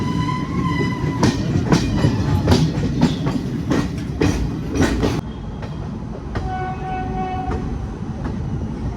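A late-running Indian special passenger train rolls along with a loud, steady rumble and rhythmic wheel clatter, and tonal horn or whistle notes sound at intervals.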